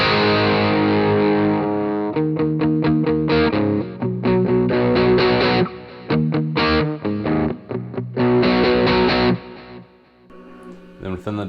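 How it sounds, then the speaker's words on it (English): Electric guitar played through a Peavey Rage 258 amp with its delay set to a slow tap-tempo echo, distorted chords and notes ringing out with repeating echoes trailing behind, loud and steady for most of the passage. "this section of the delay is they call the echo. So I slowed the tap tempo down."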